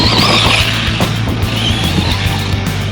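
Arrma Granite 3s BLX RC car with big bore shocks bashing around a trash pit, a steady, loud high-pitched electric motor whine with wheel and gravel noise, continuous and close.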